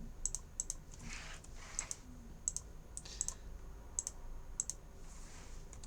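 Typing on a computer keyboard during a live maths lesson, with steady, fairly faint key clicks in irregular bursts over a low background hum and no talking.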